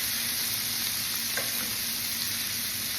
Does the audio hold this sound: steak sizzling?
yes